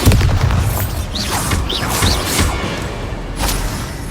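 Spell blasts burst and boom in a Hogwarts Legacy duel, with loud whooshing impacts and crashes coming in quick succession amid the sounds of combat. No one speaks.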